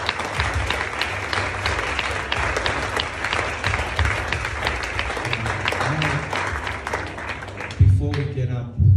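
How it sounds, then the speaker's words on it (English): A gathering gives a warm round of applause during a talk by Metropolitan Ieronymos of Larissa and Tyrnavos in Australia, sustained clapping from many hands under scattered voices, ending with a thump and a murmur. "Can we give a round of applause?"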